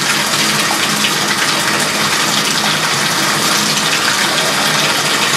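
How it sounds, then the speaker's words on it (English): Water gushes steadily into a tub being filled a few inches deep to soak a quilt, a continuous loud running-tap rush with no pauses and no voices. "And I'm going to let the water fill so I get about 3 inches of water."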